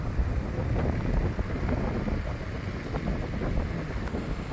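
Steady crosswind buffeting the microphone on a boat, a constant low rumble with gusty roughness throughout, no voices.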